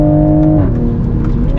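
A 2021 Toyota Supra pulls hard on a winding canyon road, its engine drone holding a steady pitch, then dropping sharply as it shifts and settling into a lower hum, heard close from inside the cabin.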